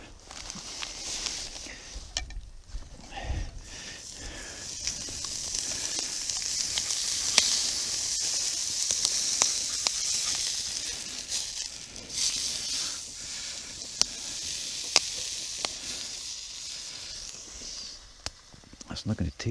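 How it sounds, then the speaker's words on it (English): A burger patty sizzles and crackles in a frying pan over an outdoor camp fire, a constant faint hiss dotted with sharp pops, while someone talks over it now and then. "Let's put a little bit in the frying pan."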